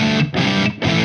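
An electric guitar plays through a Boss Waza DS-1w distortion pedal set past noon, giving a nasty, snarling tone. Three short, loud, close chords are struck in quick succession with brief gaps.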